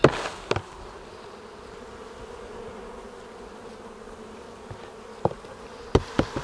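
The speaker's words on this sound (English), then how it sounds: "just going to knock the bees into the corner." A continuous low buzzing of many honeybees fills the background, punctuated by a few sharp knocks and thumps near the start and end as bees are knocked into a bucket corner for varroa monitoring.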